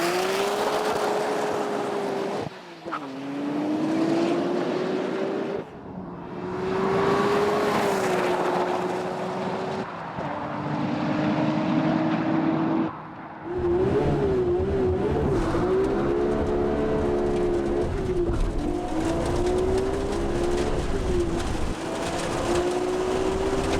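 A tuned race car with Nismo parts, HKS and SARD fuel system and a Power FC, making 365 kW at the wheels: a loud, sustained engine drone that rises and falls in pitch through several passes, with gear changes and brief dips, and no talking.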